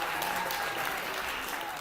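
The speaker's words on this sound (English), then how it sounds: "Clap it up, clap it up, clap it up." Audience clapping at a youth empowerment show in Harlem, a brief, steady wash of many hands applauding at moderate level without pause.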